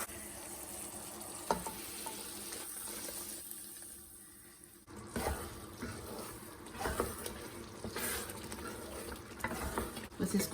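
A second tempering of hot spiced oil poured into urad dal simmering on a low flame, giving a soft steady sizzle and bubbling with stirring and a brief hiss, fairly quiet and close.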